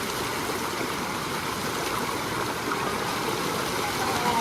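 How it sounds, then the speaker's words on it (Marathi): A monsoon-swollen waterfall roars as a steady, dense wash of rushing water, constant and fairly loud throughout with no voices. "आता धबधबा बघा आवा का अद्भुत असा धबधबा आपल्या इकडं"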